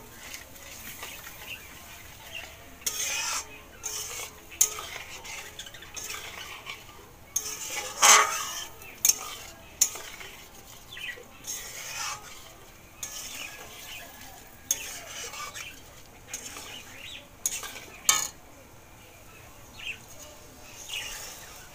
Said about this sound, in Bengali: এবার আমি কিছুক্ষণ কষিয়ে নেবো।